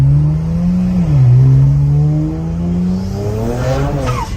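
Heavily modified BMW N54 engine with stage 2+ hybrid turbochargers accelerating hard, a loud, steady rising engine drone with harmonics climbing and dipping as the revs change, close and dominant throughout with no talking.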